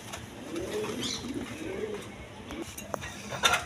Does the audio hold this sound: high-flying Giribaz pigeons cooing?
yes